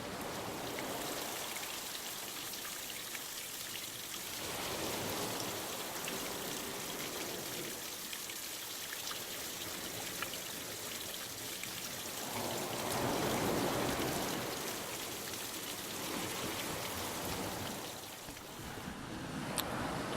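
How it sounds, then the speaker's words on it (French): A small coastal stream runs down to the ocean, a continuous rushing wash of water with slow swells from nearby surf, steady and moderately loud, with no voices. "Un petit ruisseau vient ajouter sa pierre à l'édifice en venant se jeter dans l'océan."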